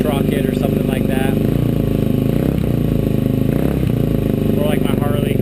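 A Suzuki DRZ400SM supermoto dirt bike with a modified exhaust idles in a loud, steady, throbbing drone. It is heard close up, and the note shifts slightly in pitch.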